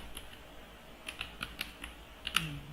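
Scattered keystrokes on a computer keyboard as HTML is typed, a few light clicks early then a quicker run of taps building to one sharper hit near the end, close and fairly quiet with no talking.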